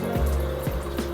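Water poured from a tap or kettle into a cup noodles cup, a steady close trickling fill with a few small gurgling bursts.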